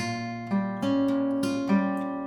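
Fingerpicked acoustic guitar chord, individual strings plucked one after another in a steady pattern, notes ringing together, close and clear with no talking.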